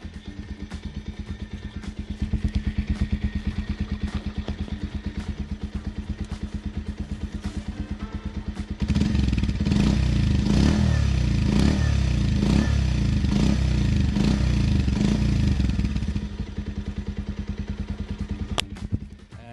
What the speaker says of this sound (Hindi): माइक को मैं रखने वाला हूं अभी साइलेंसर के पास एंड मैं आपको रेव करके दिखाऊंगा कि हाउ इट साउंड्स।